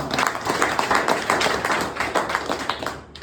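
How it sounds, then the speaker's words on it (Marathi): Dense crowd applause for Samarth Success Life Marketing Private Limited at a company gathering in Barshi, Solapur, steady rapid clapping throughout at fairly close range. "एकदा ह्या कंपनीसाठी जोरदार टाळ्या होऊ द्या."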